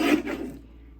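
A paper trimmer slicing scrapbook paper, one short close rasping slide of the blade lasting about half a second, then quiet.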